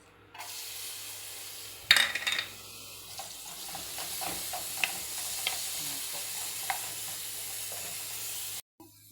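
Sliced onion sizzles steadily in hot olive oil in a pan, a continuous close crackle with occasional stirring clatter and a sharp knock near the start, with no voices.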